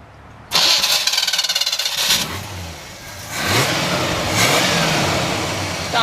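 A 1967 Pontiac GTO with a four-speed and dual exhaust cranks and fires up, a brief revving burst settling into a steady, close rumbling idle.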